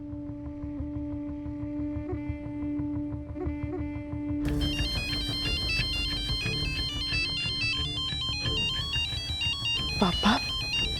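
A musical phone ringtone plays a repeating melody, growing louder and brighter partway through, with background talk and room noise underneath.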